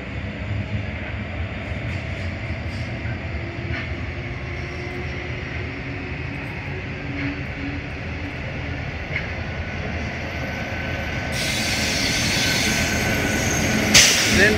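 Freight train led by locomotives VL358 and C510, hauling a cube train, passes at Tempe in Sydney: a steady rumble of wheels and wagons rolling by continuously, growing louder with brighter rail hiss toward the end.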